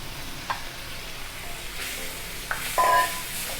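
Black chana curry bubbling and sizzling softly in a pan, a steady low simmer with a few faint clinks of a utensil.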